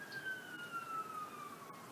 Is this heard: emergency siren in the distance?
yes